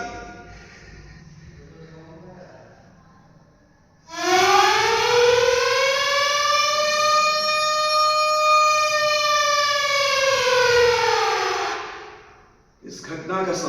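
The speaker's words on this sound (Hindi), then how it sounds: "डरते डरते उसने वहां सायरन की घंटी बजा दी।" A loud siren winds up after a few seconds of quiet, holds a long steady wail, then fades down near the end, sounded during a stage play performance at a solo drama festival.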